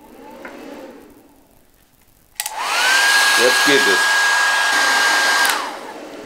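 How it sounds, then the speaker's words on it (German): A hair dryer switches on with a sharp click and runs loudly and steadily for about three seconds with a rising whine, then cuts off; brief talk precedes it in a camper setup powered by a portable power station. "So, ich schalte den Föhn ab."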